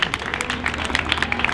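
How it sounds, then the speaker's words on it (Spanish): A small group claps for a participant who has just finished a push-up challenge, with loud, close, rapid and uneven hand claps filling the whole moment, no talking. "un aplauso"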